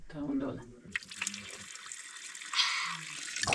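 Holy water running at a church in Macedonia, a tap-like stream that starts after a brief bit of talk and then flows steadily nearby, swelling louder toward the end.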